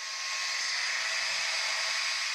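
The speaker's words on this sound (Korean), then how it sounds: "TV 소리보다 좀 더 큰 진공 청소기" A vacuum cleaner runs in a home with a steady, loud, unbroken whooshing drone and no talking.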